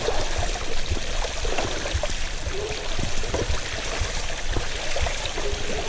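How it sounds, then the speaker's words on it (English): A bicycle is ridden through a river, its wheels churning and splashing water in a steady, loud, continuous rush with no speech. "Just riding through a river."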